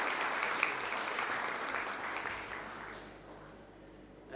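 An audience at a Cambridge certificate presentation ceremony applauds as a trainer is called to the stage, with thick close clapping that gradually thins and fades out toward the end.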